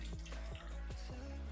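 Cold water pours steadily into a pot in a kitchen, a continuous close splashing with bubbling gurgles, fairly loud with no voices.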